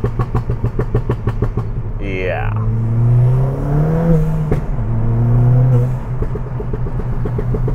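A tuned stage 2 Ford Fiesta ST engine rises sharply in pitch as the driver downshifts into second, then holds a loud droning, buzzy rev heard from inside the car, with a brief word spoken over it.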